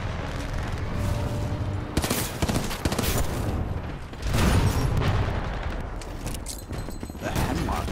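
Bursts of Hemlock rifle gunfire in Titanfall 2, loud repeated shots with explosions and booms mixed into dense battle noise.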